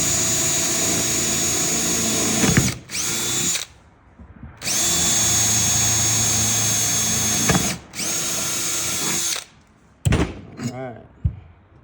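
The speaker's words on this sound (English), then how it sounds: "right now just lining it up, drilling it through." A power drill boring holes to mount saddlebags on a Harley-Davidson M8 Softail motorcycle, running loud and steady in two long bursts with brief pauses, followed by a few clunks and handling noises.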